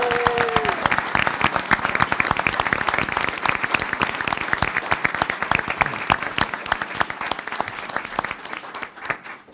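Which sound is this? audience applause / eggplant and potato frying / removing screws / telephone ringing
audience applause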